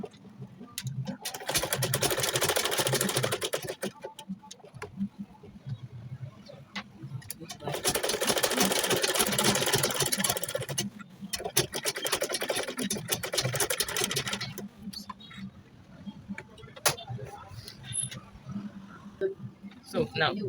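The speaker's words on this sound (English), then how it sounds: "Now the next thing I'm going to do is to simply start sewing now." A sewing machine stitches a shirt collar at a 1/4-inch seam allowance, running in two long steady bursts of several seconds each with a short pause between, close and fairly loud over a low background hum, then a few brief stitches.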